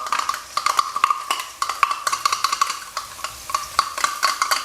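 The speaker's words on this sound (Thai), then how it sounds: "ใส่พริกกระเทียมที่เราปั่นไว้เมื่อกี้ลงไปครับ" Chili garlic paste sizzles and scrapes in a hot pan over medium heat as it is stirred briskly, with rapid clinking of a utensil against metal, close and continuous.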